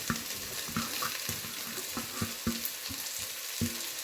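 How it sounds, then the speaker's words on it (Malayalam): Sliced onions sautéing in hot oil with green chilli, ginger and garlic, a steady close sizzle broken by regular scraping stirs of a spatula against the pan. "ഇനി നമുക്ക് ആ സവോളയും കൂടി ഒന്നിട്ട് ഒന്ന് വഴറ്റിയെടുക്കാം."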